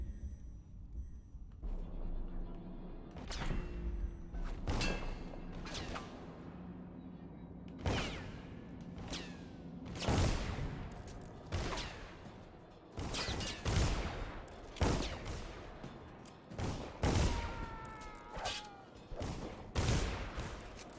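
Enemy gunfire in the stealth game Dishonored: sharp pistol and rifle shots crack at irregular intervals over about twenty seconds, some near and loud, others softer, with ambient game noise between.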